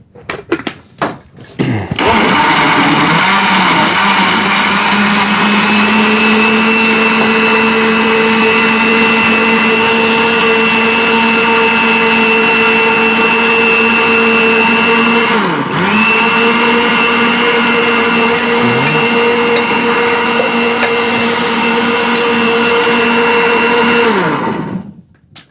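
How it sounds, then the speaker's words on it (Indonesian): An electric blender runs steadily for about twenty-five seconds with water added, starting with a clunk, then giving a loud continuous whine with a brief dip in pitch partway through before it stops. "Oke, kita blender."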